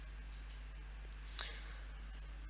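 A single computer mouse click checking a box, a faint short tick against a quiet low hum, with a few softer clicks around it.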